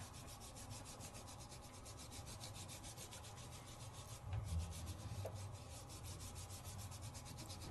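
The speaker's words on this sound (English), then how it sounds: "I bet I could sand a little bit of that off" Quiet, rhythmic sanding strokes rubbing across the back of a craft piece, faint and close, with a steady rasping texture and a brief slightly louder scrape midway.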